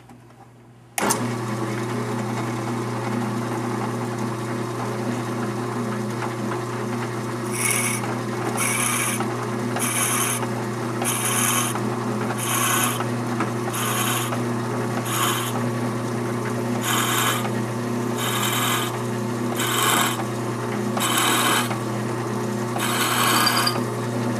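A power drill whines steadily after starting abruptly, and about a dozen rhythmic bursts of rasping cutting noise come as the bit bores into a wooden pen blank.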